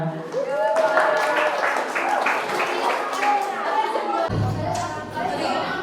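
A university journalism class claps in a steady, dense patter that fills the room, with some murmuring voices mixed in, cutting off abruptly near the end.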